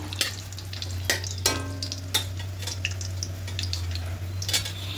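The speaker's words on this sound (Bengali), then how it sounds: "আর 2টো তেজপাতা দেব। হালকা একটু ভেজে নেব।" Whole cumin and two bay leaves fry in hot oil as a tempering for a vegetarian moong and chickpea dal, a soft steady sizzle with a few sharp clicks of a spoon stirring the pan, close by.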